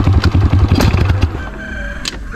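A Honda XRM 125 motorcycle engine runs loud and close, with a rough, throbbing low rumble that eases slightly toward the end.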